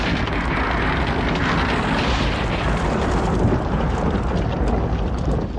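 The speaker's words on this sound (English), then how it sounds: "The soldiers pull down houses and blow up shops." Buildings blown up amid a raging fire, rendered as a continuous heavy roaring rumble with no distinct separate blasts, loud and dense from start to finish.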